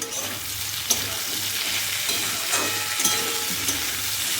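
Cauliflower florets fry in oil in a pan, a steady close sizzle broken by occasional scraping stirs and clinks of a spatula.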